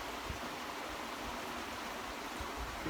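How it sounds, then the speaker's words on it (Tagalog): Water rushes steadily out of the Basak Singa dam canal, a loud, continuous broadband roar with no breaks and no voices. "dito lumalabas yung tubig galing dito sa Basaksinga na dam"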